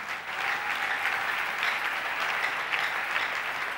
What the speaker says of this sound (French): applaudissez le roi des rois